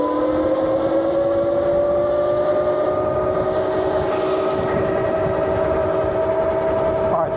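Steady electric whine from a HEYBIKE Villain 52V electric dirt bike riding in mode 2, two rising tonal lines held throughout over constant wind and road rumble, close and loud.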